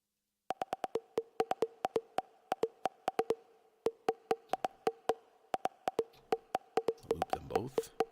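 A Eurorack modular synthesizer techno patch built with T-networks, playing sharp, evenly spaced percussive pulses in a tight repeating rhythm with a steady tonal hum beneath, closing in a brief noisy swirl.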